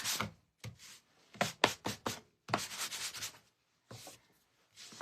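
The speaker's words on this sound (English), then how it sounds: "I'm just going to kind of go over it a little bit with a sanding block." A sanding block rubs across a painted wooden surface in a series of short, scratchy strokes with brief pauses between them, close and fairly quiet.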